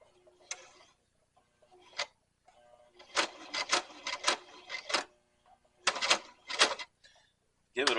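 Sewing machine stitching a leather drawstring bag with the presser foot down, several short bursts of rapid mechanical stitching separated by pauses, close and moderately loud, with faint talk in between.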